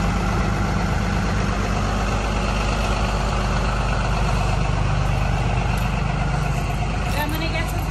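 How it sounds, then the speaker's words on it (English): A hotshot pickup truck's engine idles steadily for the whole stretch on a freezing morning, a dense, even rumble close by, with a voice talking over it. "Truck sounds good and healthy"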